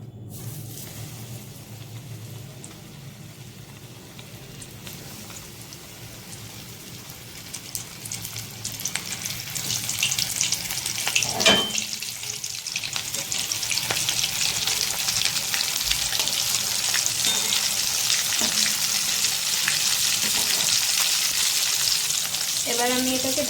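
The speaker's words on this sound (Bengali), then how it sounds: "এটা আমি এবার ফ্রাই করে নেব, দিয়ে দেবো। আমি এবার চিকেনটা দিয়ে দেবো।" Chicken wings coated for KFC-style frying hiss and crackle in deep oil. The sizzle grows louder and denser as the wings settle in, with occasional bubbling pops over a steady frying roar.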